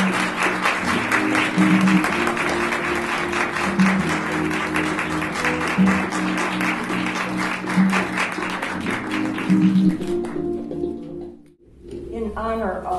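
Audience applause welcoming poet Naomi Long Madgett, Detroit's poet laureate, at a poetry reading: sustained, dense clapping filling most of the stretch, mixed with voices, then fading out before a quiet gap and a final murmur of sound.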